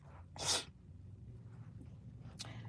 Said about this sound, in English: I gotta sneeze, y'all.